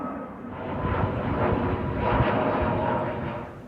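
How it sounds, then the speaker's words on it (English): A Turkish Airlines passenger jet bound for Istanbul passes overhead near Birmingham Airport, a loud, broad engine roar that swells and rumbles steadily across the sky before slowly easing. "this next plane what's going to come over is going to Istanbul. And here it is, and it's Turkish Airlines"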